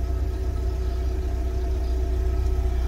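Steady, close idle of a small imported automatic car's 1.4-litre engine, a continuous low hum with even rumble and no talk over it.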